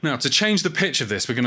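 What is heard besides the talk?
No distinct noise like a dog, phone or traffic.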